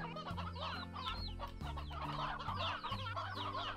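Chickens in the video game Slime Rancher cluck steadily and busily, several birds overlapping in close, continuous chatter over a droning game background, with no talk.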